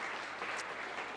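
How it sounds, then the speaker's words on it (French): Brief, quiet applause from an audience at a French social round table, greeting a guest panelist; soft, even clapping with no voices. "Donc Fatia, on t'applaudit, merci d'être avec nous."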